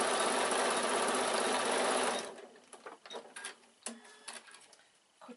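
A sewing machine runs steadily for about two seconds, stitching rows along a quilted evening bag strap, then stops, leaving light handling clicks and rustles close by.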